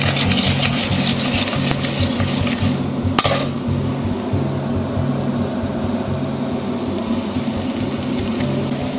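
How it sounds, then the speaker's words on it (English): Cucumbers sautéing in a pan make a steady, close frying sizzle that continues throughout, with a brief sharp utensil clink near the middle and no talking. "So I'm just going to let them saute now for about 5 minutes."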